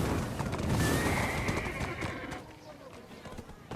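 A horse neighs loudly in the Black Desert video game, a bright whinny sitting over game sounds and hoofbeat-like clatter, with a person talking alongside.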